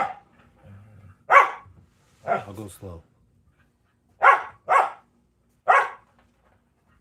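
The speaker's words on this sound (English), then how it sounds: "Stop barking, B." A dog barks in short sharp bursts, about five loud barks spread out with pauses between them, while a person speaks briefly in the gaps.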